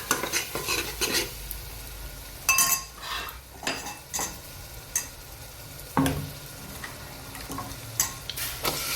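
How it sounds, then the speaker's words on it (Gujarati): Food mixed with salt and turmeric in a pan, a spoon scraping and clinking against metal in irregular strokes over a soft frying sizzle, close and fairly loud with no voices. "સરસ બધું મિક્સ કરી લઈએ"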